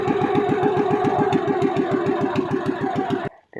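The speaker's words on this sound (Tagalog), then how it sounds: "Patay ko na yung makina." A close, loud boat engine chugs with a fast, regular thumping rhythm, then cuts out abruptly, leaving near silence.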